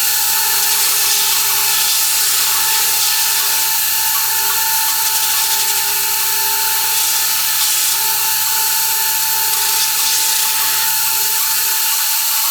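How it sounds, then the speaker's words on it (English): Drum sander smoothing the sides of a solid walnut Telecaster guitar body, a loud continuous high-pitched whine with a steady motor hum, unbroken and close. "Here we are at the drum sander, and we'll remove those little tabs and just kind of clean up the sides a little bit."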